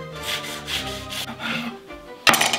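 A serrated knife saws back and forth through a McDonald's Big Mac in a few rasping strokes, ending with a sharper, louder scrape.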